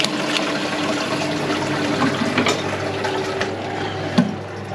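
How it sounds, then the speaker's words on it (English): A toilet cistern is flushed out and emptied during plumbing work, a steady rushing, gurgling wash of water running throughout, close and fairly loud. "we will just flush out, completely empty the cistern"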